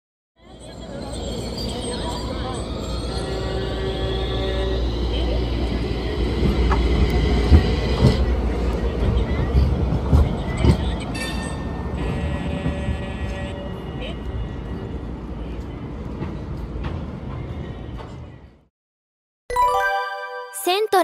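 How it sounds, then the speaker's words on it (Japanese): A Toyama city tram (Portram) passes close by on street track, a loud rolling rumble with wheel squeal and clatter that builds, holds, then cuts out near the end before a short burst of chimes or announcement tones. "The tram is approaching."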